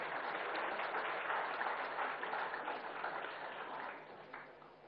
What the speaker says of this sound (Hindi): तो वृंदा करात जी का स्वागत किया जाए कृपया तालियों के साथ।